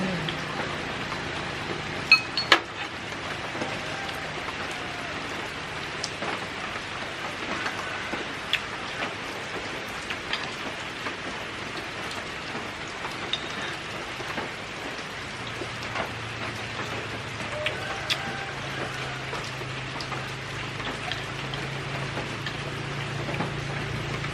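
Steady rain falls outdoors, a dense even hiss of drops on surfaces with a few sharp nearby drips, continuing throughout with a faint low rumble near the end.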